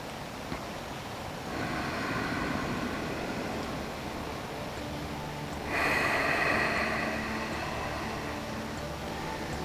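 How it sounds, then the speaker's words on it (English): Slow, deep yoga breaths, inhaling and exhaling close to the microphone, come as two long airy swells of breath with no speech over them. "Just take a couple of deep breaths here, inhaling deeply and exhaling deeply."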